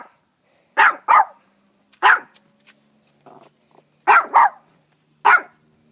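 A dog barks at a turtle in short, sharp bursts, first a quick double bark, then a single one, then another double and a final single. The barks are close and loud against an otherwise quiet background.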